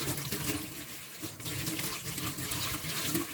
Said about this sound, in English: Rinse with water.